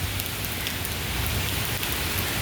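Heavy rain pours steadily in a dense, unbroken roar of drops hitting surfaces, loud and close, with no voices.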